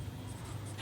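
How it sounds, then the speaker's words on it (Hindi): Chalk or marker writing out working on a board during a Class 10 maths lesson on real numbers, a brief, quiet scratch lasting under a second with no talk over it. "हम यहाँ लिख देते हैं"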